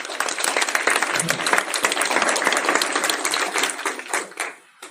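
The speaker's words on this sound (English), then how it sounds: "Give her a round of applause." Audience applause at a live real-estate investing meetup, dense steady clapping filling the room for several seconds before tapering off at the end.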